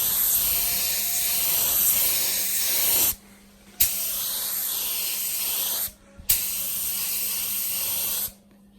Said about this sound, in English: it's quite hard to film and spray at the same time